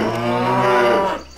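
A single long, loud cow moo from the video game Animallica, close and sustained with a rich, deep tone that fades out at the end.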